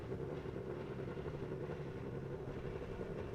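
Formula 3 race cars idle together on the starting grid at Zandvoort in a sim racing game, a steady low engine drone with a continuous rumbling burble and no voices.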